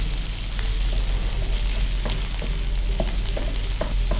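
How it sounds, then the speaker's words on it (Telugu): Mutton pieces sizzle in a hot tempering of green chilies, cumin, onions, curry leaves and whole spices for Hyderabadi mutton dalcha, a steady close frying hiss broken by light stirring scrapes and clicks, with no talking. "మసాలా దినుసులు వేసినాక అది కాస్త ఫ్రై అయిన తర్వాత మటన్ ముక్కలు డైరెక్ట్గా వేసేసుకోవాలి"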